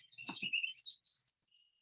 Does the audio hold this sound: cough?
no